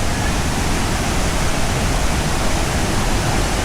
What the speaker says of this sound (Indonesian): debit airnya agak kenceng juga ya